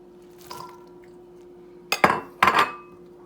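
Sliced cucumbers tipped into a bowl of pasta salad dressed with Italian dressing land in two quick clattering bursts of clinks and rustles, with a faint dish clink just before.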